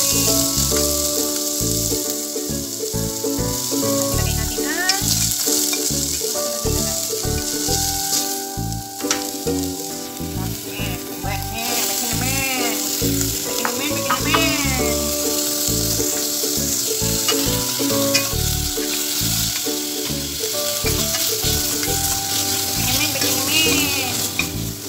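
White onion fries in a hot pan while kangkong with beef is cooked, a dense, steady sizzle throughout with stirring noises on and off, close and fairly loud.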